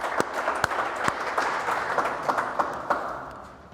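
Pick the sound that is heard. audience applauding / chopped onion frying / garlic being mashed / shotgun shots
audience applauding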